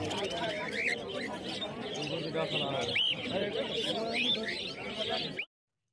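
Black and silver Java sparrows chirping at a busy bird market in Uluberia, a steady layer of small tweets and calls mixed with market chatter and someone talking throughout, cutting off abruptly near the end.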